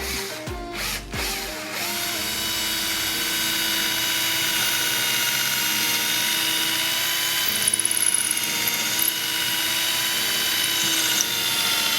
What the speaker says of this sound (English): once we've pre-drilled our holes, we're countersinking just enough for that number 8 screw